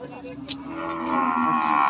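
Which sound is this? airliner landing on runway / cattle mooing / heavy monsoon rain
cattle mooing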